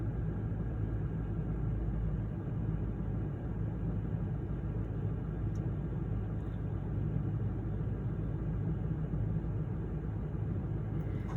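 A diesel engine idles steadily at about 800 rpm during DPF regeneration, giving a continuous low rumble that stays even and unbroken throughout, with no voices.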